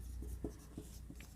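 Pen writing an accounts note on paper, heard as faint, close scratchy strokes in a few short bursts over quiet background hum.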